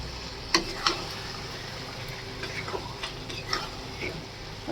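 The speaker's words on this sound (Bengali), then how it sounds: "এবার আমি চিকেনটা দিয়ে দিচ্ছি।" Chicken frying in oiled spice masala in a pan, a continuous sizzle broken by several sharp clicks and scrapes of stirring, close by and without speech.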